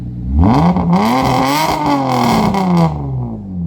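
A 1997 Toyota Avalon engine with muffler and resonator deleted revs hard several times, its loud raspy exhaust note climbing and falling in pitch, ending as it settles back to idle.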